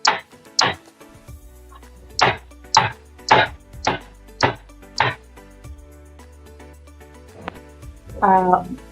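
A batter-filled cake tin for a semolina cake is rapped on a counter about nine times in uneven sharp knocks, with a short voice near the end.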